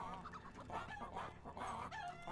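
A flock of video game chickens clucks and cackles in a steady, overlapping chorus, moderately quiet and continuous throughout.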